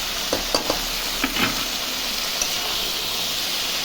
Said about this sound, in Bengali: হলুদ লবণ দিয়ে ভালো করে আমি নাড়াচাড়া করে